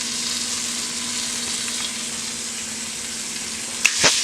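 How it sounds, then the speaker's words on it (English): Meat browning in a pot on the stove, a steady close sizzle and frying hiss throughout, with a brief clatter of stirring near the end. "So you just keep cooking this down, and the meat browns."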